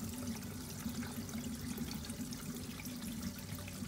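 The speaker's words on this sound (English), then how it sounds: "Many bubbles coming out of the filter." Water pouring steadily from the outflow of a small Oase or Pontec pond filter beside a fish fry pond, a continuous close splashing and bubbling rush with no pauses.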